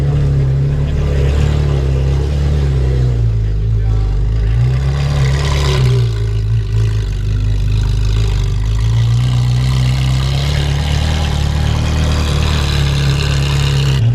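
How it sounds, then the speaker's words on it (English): Loud, sustained roar of noisy hypercar engines, such as a Pagani Huayra and a Ferrari LaFerrari, arriving at a plaza, with low rumbling and revving that swells and eases throughout. "we're getting some noisy cars turning up here"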